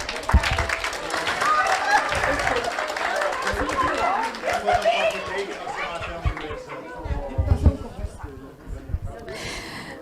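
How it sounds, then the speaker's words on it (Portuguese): A seminar audience claps during a university session on reprography, with uneven, moderate applause mixed with chatter and voices, thinning out toward the end. "Aplausos."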